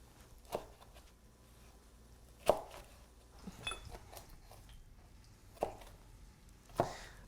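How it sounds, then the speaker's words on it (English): A knife roughly chops roasted peppers on a board, giving a handful of quiet, isolated thunks spaced a second or more apart in a calm kitchen. "slice the cheeks off the pepper and just discard the core and roughly chop"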